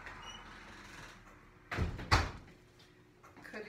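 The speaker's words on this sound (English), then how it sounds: "Coming back, I'm going to close the outside door." An outside door at home pushed shut, giving a soft thud followed by a sharper latching knock, close by in a quiet room.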